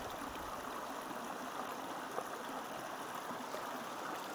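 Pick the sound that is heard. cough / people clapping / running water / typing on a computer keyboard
running water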